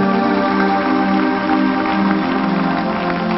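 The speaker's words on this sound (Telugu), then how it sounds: "గట్టిగా చప్పట్లు కొడదాం" A hall audience claps loudly at a motivational talk, a dense, steady wash of applause filling the room without a break.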